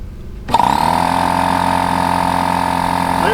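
An air compressor, kept under a camper and exposed to the weather, kicks on abruptly after a moment of quiet and runs with a loud, steady mechanical hum and rattle close by.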